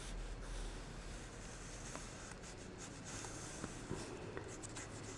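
Pencil sketching a small heart shape on paper, a faint, close scratching and rubbing of strokes against a quiet room hiss.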